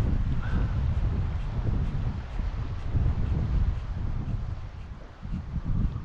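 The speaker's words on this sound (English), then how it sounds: "the wind is freshening" Wind gusting outdoors during a fishing outing on the water: a continuous, rough rumble of wind buffeting the microphone, steady and fairly loud, with no voices.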